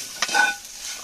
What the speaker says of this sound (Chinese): 跟住咧落埋呢啲菇落去，嗱呢啲鸡髀菇兜兜佢